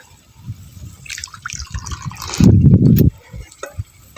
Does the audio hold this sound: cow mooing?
no